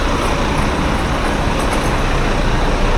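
Inside a bus travelling toward Tweed Heads, a constant loud road roar and engine drone run without a break.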